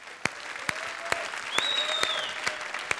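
Audience applause at a live comedy show, a steady broad wash of clapping with a few sharp louder claps standing out, moderately near.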